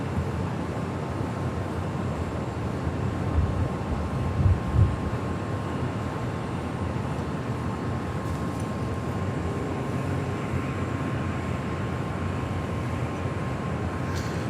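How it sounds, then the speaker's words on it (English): An Aloha Air Cargo Boeing 767 departs runway 25 left at Los Angeles International Airport, a steady distant jet roar rumbling evenly throughout with no voices. "Now we do have that Aloha Air Cargo 767 about to depart here on more than likely"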